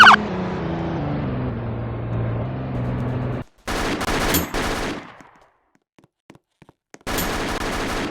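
Police gunfire during a shootout in which a 16-year-old suspect is shot: loud bursts of rapid shots in several blocks separated by sudden silences, harsh and close, with no speech.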